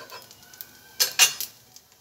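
A pan of patishapta pitha is lifted off the stove, with a few sharp metallic clanks close by, then quiet.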